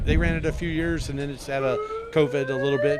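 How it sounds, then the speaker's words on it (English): A siren at a rocket launch site sounds as a steady, slowly rising tone beneath someone talking, partly masked by his voice. "that's a siren that I don't think was supposed to go"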